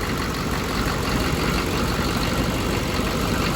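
A 6.5 diesel engine runs steadily right after injection pump work, a dense, loud, unbroken idle rumble with no break in the sound.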